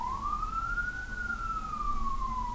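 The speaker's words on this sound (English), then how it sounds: "The sirens are going on." A single emergency vehicle siren passing outside sounds from some distance, one slow rising and falling wail swelling gently and fading, over a faint low background hum.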